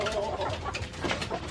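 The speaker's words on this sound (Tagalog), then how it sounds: "magpapakain po tayo ng manok" Chickens on a farm cluck in short, soft, overlapping calls, fairly close.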